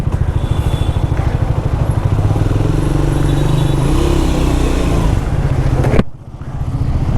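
A Triumph Speed 400 motorcycle engine runs on a test drive with a steady, close, throbbing rumble. It drops away sharply for a moment near the end before resuming.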